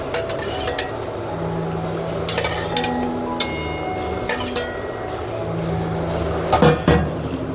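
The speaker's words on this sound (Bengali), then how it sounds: "বেগুনগুলো যে ভেজে রেখেছিলাম এক এক করে বেগুনগুলো এর মধ্যে দিয়ে দিচ্ছি" Fried eggplant pieces dropped one by one into a simmering hilsa fish curry, with scattered clinks of a utensil against the pot over a steady bubbling hiss, close by and without talk.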